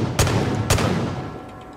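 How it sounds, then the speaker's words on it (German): Two sharp gunshots in the Far Cry 5 video game, fired at a vehicle tire about half a second apart, loud and punchy with short decaying tails. "Drei Schüsse, um diesen verdammten Reifen kaputt zu machen."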